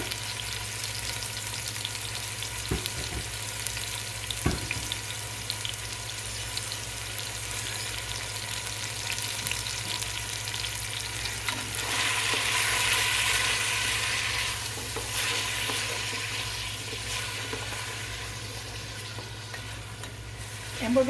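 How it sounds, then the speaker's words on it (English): Onions and carrots sauteing in a pot for split pea and ham soup, a steady, fairly quiet sizzle with a couple of brief utensil clicks, no speech. "and carrots, and we're going to saute this just a little bit."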